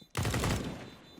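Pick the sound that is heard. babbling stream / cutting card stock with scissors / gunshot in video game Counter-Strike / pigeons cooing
gunshot in video game Counter-Strike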